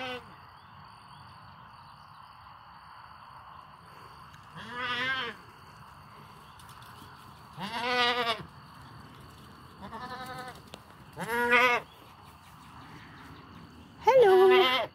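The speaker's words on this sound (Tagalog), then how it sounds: "Ayan ang mga kambing ko." Goats on a farm bleat in five separate calls spaced a few seconds apart, fairly close and clear against a quiet background.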